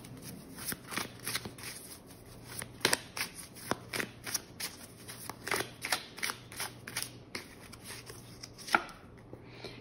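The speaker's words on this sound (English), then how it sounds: "I do want to pull some oracle cards here just to get some more information" Oracle cards being shuffled by hand, a series of quiet crisp riffling and flicking bursts in an uneven rhythm, close and soft with no talk.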